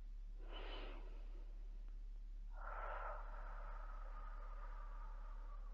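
Two slow, soft breaths in a quiet room, one short airy inhale followed a moment later by a longer, smoother exhale that trails off gently beneath a steady low hum.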